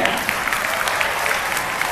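An audience in a literacy training session claps, a dense continuous patter of many hands at steady loudness throughout, with no talking.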